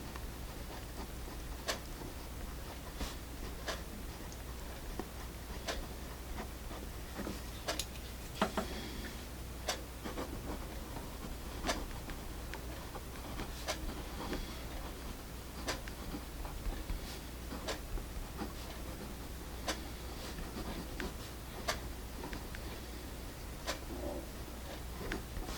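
A vintage Sanford Digit 0.7mm mechanical pencil scratches and taps on paper in quiet, irregular ticks and soft strokes, close but faint, with no talking.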